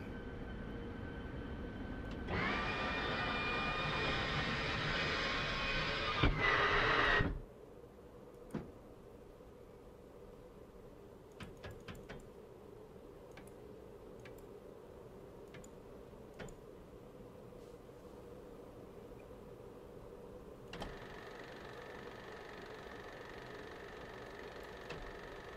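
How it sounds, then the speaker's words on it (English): An F-16C Viper starting up in the DCS flight simulator game: a loud steady whirring roar for several seconds that cuts off abruptly, leaving a low constant hum with scattered faint clicks and ticks. "So let's get the aircraft started first."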